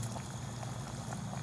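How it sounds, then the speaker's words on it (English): Water boiling hard in a pot on a Bushbox XL camping stove kept on high heat, a steady close bubbling and hiss with constant low rumble, heard alone. "And boil water quickly"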